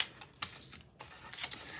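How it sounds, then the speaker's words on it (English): A small typewriter shifted across a tabletop, giving a few faint, close knocks and rattles of its keys and body at irregular moments. "I'll move this little typewriter out of the way"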